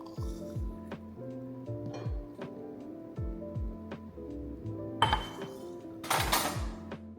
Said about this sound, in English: We're going to add chia seeds first, and then we are going to add a plant-based milk. I like to use cashew milk.